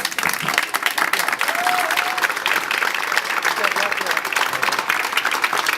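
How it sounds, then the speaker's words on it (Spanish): Audience applause at a Spanish comic book presentation, dense steady clapping from a crowd filling the room throughout, with faint voices mixed in. "¡Aplauso!"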